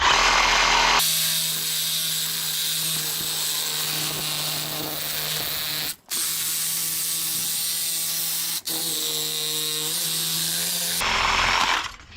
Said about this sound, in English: Make sure there's no steel screws in the top or the bottom, because when you're cutting this, it'll dull your blade immediately.